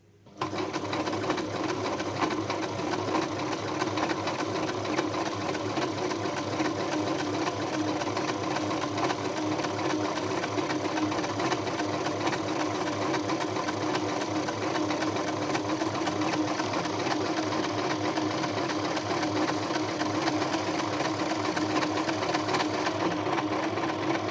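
A Singer Simple 3229 sewing machine runs steadily with a double needle, its motor whirring and needles chattering in a continuous close, loud drone that starts abruptly and holds without pause.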